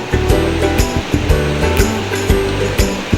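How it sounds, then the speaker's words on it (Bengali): Freshly grated potatoes being rinsed in a bowl of water, with continuous close sloshing and splashing broken by repeated stronger swishes as the shreds are stirred and washed. "এবার ভালো করে জলে ধুয়ে নেব আমি, 3 বা 4 বার করে ধোবো।"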